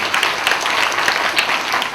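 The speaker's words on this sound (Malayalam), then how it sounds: "രണ്ടുപേർക്കും വേണ്ടി നല്ലൊരു കൈയടി കൊടുക്കാവൂ." Wedding ceremony audience applauding the couple, dense continuous clapping from many hands, loud and even throughout the short stretch.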